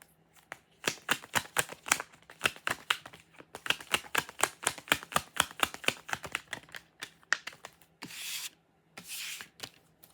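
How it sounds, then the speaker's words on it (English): A deck of playing cards being shuffled by hand in repeated quick riffles and bursts of dense clicking flutter, with brief pauses and two longer riffle sweeps near the end, close and clear with no talk. "I'm like trying to shuffle these cards."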